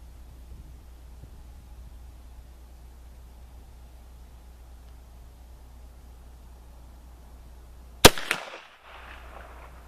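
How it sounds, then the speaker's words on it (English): A single sharp gunshot from a Rossi 92 lever-action rifle chambered in 45 Colt with cast bullets, fired once outdoors after a long quiet stretch, loud and abrupt with a brief decaying echo. "Let's shoot a few more and see if I can do any better."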